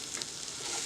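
Onion frying in a pot for a vegetable soup: a brief, steady sizzle of hiss and crackle, close and even, with no voices.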